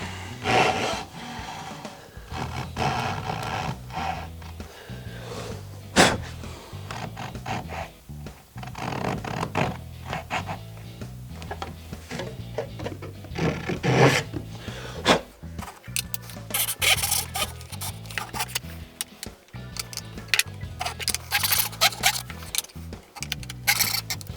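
Hand saw cutting a dovetail in wood, guided by a magnetic jig, giving repeated rasping back-and-forth strokes at close range, with short pauses between bursts.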